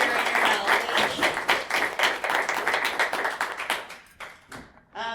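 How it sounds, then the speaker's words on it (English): A crowd applauds a panel steadily with dense clapping that thins out and fades near the end; no talking. "just want to give a big round of applause to our amazing panel"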